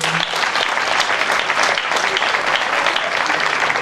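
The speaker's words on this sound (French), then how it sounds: "On acclame très fort le Seigneur" A church congregation applauding loudly for the Lord, dense sustained clapping with some cheering mixed in, close and continuous.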